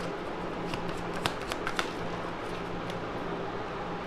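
Tarot cards are shuffled and drawn in a steady, continuous riffle of soft papery slaps and flicks, close and fairly quiet, with a few sharper snaps standing out.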